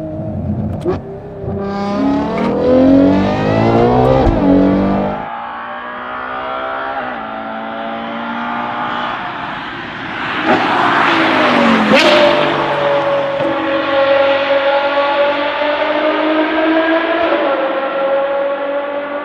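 A Ferrari Purosangue with a Novitec exhaust system revs hard and loud, its exhaust note climbing and falling through repeated surges, alone with no talking.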